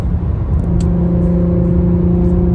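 A Nissan 350Z accelerates hard nearby, a loud continuous engine roar with rising steady harmonic tones that settle into a sustained pull, alone without speech.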